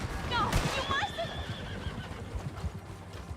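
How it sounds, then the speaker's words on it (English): Horses in the video game Red Dead Redemption 2 give a loud whinny near the start, followed by a fainter neigh and soft hoofbeats, with someone talking over the sounds. "The horses are going on without their fucking driver!"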